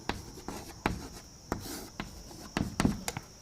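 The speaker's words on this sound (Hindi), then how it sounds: "अब मैं एक लाइन से लिखता हूं" Pen or chalk writing out a line of maths, with several sharp scratchy strokes and taps spaced irregularly, close and fairly quiet, with no talk over it.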